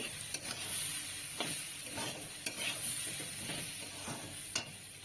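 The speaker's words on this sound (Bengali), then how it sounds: "আর একটু নেড়ে নেবো" Khichuri being stirred in a frying pan with salt and turmeric, a close, continuous sizzle under a spoon scraping the pan in regular sweeps with a few sharp knocks.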